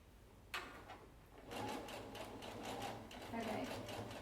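A home sewing machine stitches a fabric face mask with a wire edge, a close, steady rapid whir after a brief click, running for several seconds.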